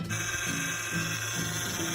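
A steady mechanical whine from a car's power steering, with a low droning hum and faint rhythmic pulsing, continuous and fairly close, with no voices.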